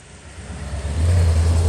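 A police car pulls away from a roadside traffic stop, its engine building from a low hum into a louder, steady accelerating drone that holds to the end.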